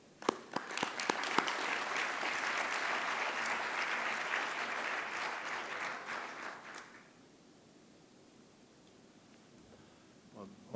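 Audience applause welcoming a consul general to the stage at a conference, a steady, dense clapping that lasts about seven seconds before cutting off into quiet room tone.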